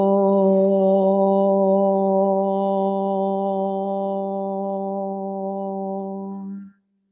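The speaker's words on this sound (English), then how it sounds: "And we are doing an Om" A group of voices chants a single sustained Om during a yoga session, one long steady hum held for about six and a half seconds before fading out abruptly, with no other sound.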